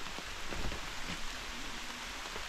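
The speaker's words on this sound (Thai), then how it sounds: "นี่ก็นอนฟังเสียงฝนไปแล้วกันเนาะ" Steady rain pours on a treehouse in the forest during a stormy, all-day downpour, a dense even hiss of drops on the roof and leaves with no voices.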